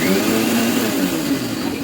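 A mixer grinder jar whirs loudly and steadily while blending lassi with sugar, its motor drone holding near and constant for a couple of seconds.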